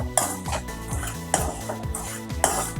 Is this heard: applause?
no